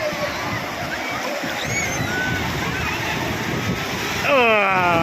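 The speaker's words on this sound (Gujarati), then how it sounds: "મોજા જોરદાર." Ocean waves at Koliyak beach, Gujarat, splash and surge strongly in a constant broad wash of water during rainy weather, with people's voices faintly audible near the end.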